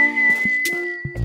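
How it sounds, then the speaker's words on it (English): A cartoon character from Adventure Time whistles in practice, a single steady, sustained whistled note held throughout at fair loudness, with a few brief knocks and rustles underneath and a louder rumble near the end, no talking. "I'm trying to whistle practice."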